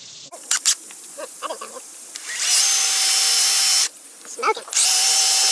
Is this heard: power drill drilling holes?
yes